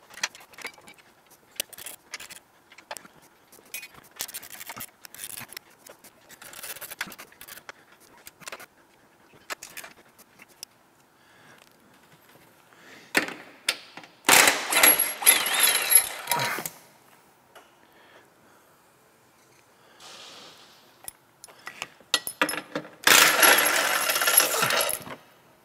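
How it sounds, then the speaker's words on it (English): Nuts being removed from the studs on the back of the battery pack of a Ford Mach-E GT, heard as intermittent metallic clinks, ratchet clicks and rattles with quiet gaps and a few louder, denser bursts. "the first bolts the service manual tells us to remove are actually the 8 nuts on the back"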